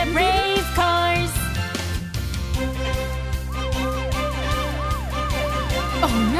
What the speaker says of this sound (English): The brave police car is on the way.